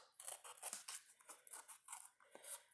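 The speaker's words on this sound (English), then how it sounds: "So watch what I do here with my scissors." Scissors cut through cardboard for a self-portrait art project, giving a series of crisp, close snips and crunches in an uneven rhythm, fairly quiet with no talking.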